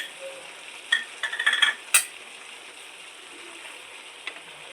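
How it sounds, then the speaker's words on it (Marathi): Soaked moong dal is sautéed in ghee, with a soft constant sizzle broken by a few sharp stirring scrapes and clinks against the pan, close and quiet, with no speech. "आता आपण मुगाची डाळ टाकतोय त्याच्यामध्ये"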